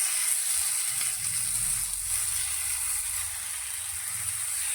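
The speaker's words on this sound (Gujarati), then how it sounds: "તો હવે આપણે જે નાસ્તાને આ રીતે બનાવીને તૈયાર રાખ્યો છે તેને આપણે પેનની અંદર લઈ લઈશું।" A cabbage snack, made without maida, fries in a lightly oil-greased pan, giving a steady, soft, close sizzle and hiss throughout, with faint low bumps beneath and no talk.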